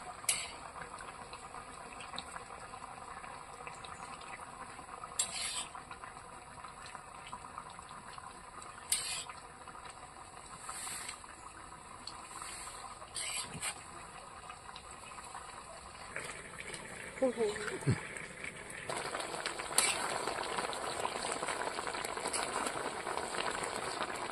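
Curry of eggplant and shrimp with ground cumin simmers in a pot, making a quiet bubbling with soft pops that swells into a louder, busier boil toward the end.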